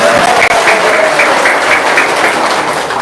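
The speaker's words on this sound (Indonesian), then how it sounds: "Sekali lagi tepuk tangan yang meriah." Audience applause at an Indonesian testimonial gathering, a steady dense wash of clapping from a crowd, loud and sustained throughout with no talk over it.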